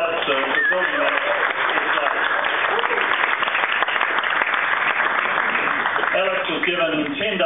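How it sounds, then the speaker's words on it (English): Steady applause from a crowd fills the room, continuous clapping at moderate loudness, with a voice speaking briefly at the start and end. "So just a quick bit of applause for Alex."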